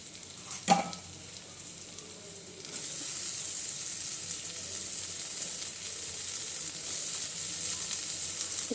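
Carrot and other vegetables sizzling in a hot pan for red poha, a steady loud frying hiss that jumps up sharply partway through after a single clank, then holds evenly to the end.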